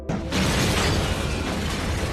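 A loud explosion erupts in a movie scene, a sudden broad blast followed by a sustained rumbling roar and debris noise that carries through the short moment.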